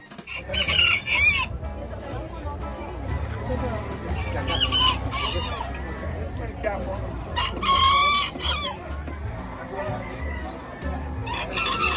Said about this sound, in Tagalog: yan yung manok natin